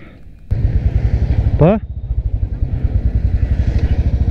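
A motorcycle engine idles with a steady, throbbing rumble at a roadside repair of a broken-down scooter on a mountain road, starting abruptly and running close and loud, with a brief revving whine and some voices in the background.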